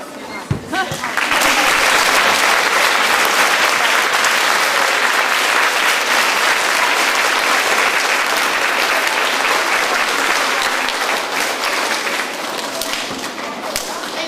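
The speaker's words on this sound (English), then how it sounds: "Let's have one big round of applause for all our students." Sustained audience applause for students at an elementary school awards ceremony, a loud, dense roar of many hands clapping that holds steady for over ten seconds with scattered background voices.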